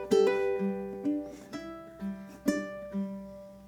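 Solo ukulele plays bar 17 of Queen's Bohemian Rhapsody: clear, close plucked notes and small chords ring out in an even rhythm about twice a second, each decaying before the next.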